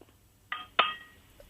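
A lampshade is tapped twice over a phone line, two sharp glassy clinks about a quarter second apart, the second louder and ringing briefly, then a faint tick.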